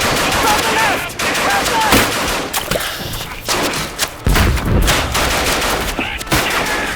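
Rapid machine gun fire in the war video game Ad Infinitum, dense bursts of shots and heavy thuds close by, with brief shouting mixed in.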